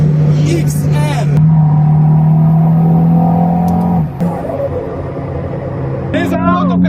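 Inside a KTM X-Bow GT XR, a carbon-fibre-bodied racing-style sports car, the engine drones loud and close, rising in pitch and then easing off, while people talk briefly over it.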